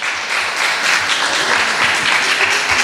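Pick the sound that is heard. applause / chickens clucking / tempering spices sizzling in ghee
applause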